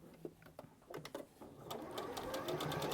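A sewing machine stitching a quilt runs with a steady rapid mechanical whir that builds after a few separate clicks and short bursts, close and fairly quiet.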